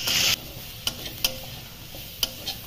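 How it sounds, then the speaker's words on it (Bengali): Turmeric powder and slit green chilies get stirred in a frying pan while cooking water spinach, with a brief sizzle at the start and a few light spatula taps and scrapes. "এবার সমস্ত একসাথে মিশিয়ে দিতে হবে"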